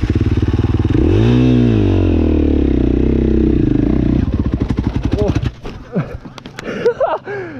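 A KTM 450 EXC enduro motorcycle engine runs loud and close, swelling through rev changes, then drops to a choppy idle with clattering knocks while someone talks over it.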